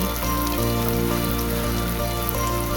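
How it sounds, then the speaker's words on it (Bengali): Melon seeds and cashew nuts frying in a pan, giving a steady, close, dense crackling sizzle that runs unbroken throughout with no one talking. "এবার সবশেষে দিয়ে দিব মগজদানা ও কাজু বাদাম দিয়ে একটু ভেজে দিব"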